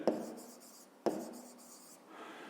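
A pen writes on paper during a grade 5 math exercise, making two short, quiet scratching strokes in a calm room.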